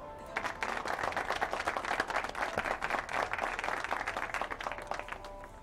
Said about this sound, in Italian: Un po' di applausi.